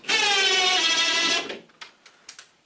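A power driver runs a screw into a homemade TV wall bracket with one sustained whirring burst, followed by a few short, sharp clicks and taps.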